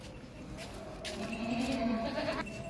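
A two-tooth Makhi Cheena goat, a tall, long-bodied buck, bleats once or twice at close range against faint background noise, with a brief rise of louder bleating toward the end.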